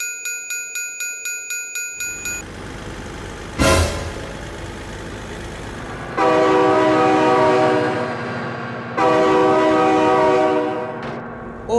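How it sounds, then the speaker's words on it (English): Train passing in the BeamNG Drive driving game, with a crossing bell ringing in rapid pulses, a loud horn blast, then two long sustained horn blows over a steady rolling rumble of rail cars. "Oh my god, train!"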